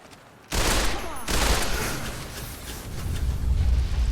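In Fallout: New Vegas, gunfire erupts suddenly after a quiet moment and becomes a dense, continuous fusillade of overlapping shots that stays loud to the end.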